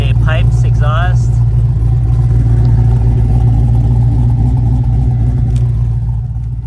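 A second-generation Camaro with an LS engine and Pypes exhaust runs with a loud, steady, deep idle rumble. A brief voice is heard at the start.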